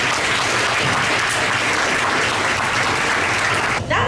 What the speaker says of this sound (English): Let's give our volunteers a round of applause.